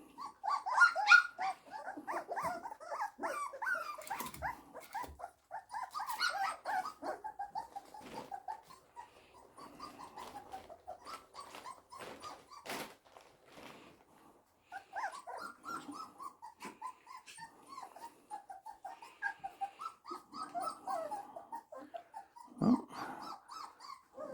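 Four-week-old puppies whimper, yelp and whine in overlapping bursts at their first feeding of puppy kibble, fairly close, with small growls and scuffling between the cries.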